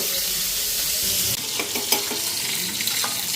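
Fish heads sizzle steadily in hot oil, a constant bright hiss broken by a few soft clinks and taps near the end.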